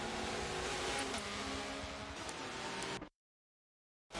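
Race car in Forza 7, a loud continuous engine drone with layered tones that holds steady for about three seconds, then cuts abruptly to silence.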